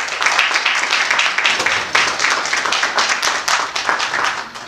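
Audience applause at a live-streamed event, a crisp, fairly close round of many hands clapping in a brisk, slightly uneven rhythm that continues steadily without talk.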